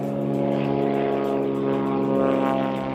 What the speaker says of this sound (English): So you definitely got an airplane up there.